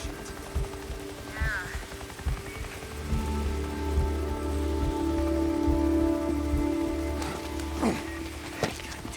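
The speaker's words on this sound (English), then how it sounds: "Seems like it's always raining" Steady rain pattering under the Days Gone Remastered game soundtrack, with a low engine drone and scattered distant thumps and bursts.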